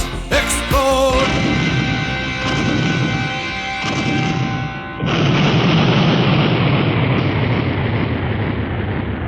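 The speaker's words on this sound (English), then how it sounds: "bombs are falling, and bombs explode" Song passage where falling bombs and explosions are evoked: a burst of sharp bangs and crashes at the start, then sustained heavy rumbling booms with a dense roar taking over midway, loud and continuous.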